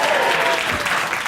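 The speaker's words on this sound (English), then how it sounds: "Only an ABC audience would clap a new tax." A TV studio audience claps in a short, dense burst of applause that is fairly loud and close, with no speech over it.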